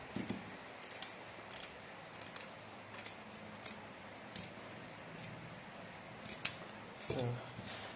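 Scissors cut through folded fabric for an auto-gele headwrap. The blades make a string of crisp, evenly spaced snips, close and fairly quiet.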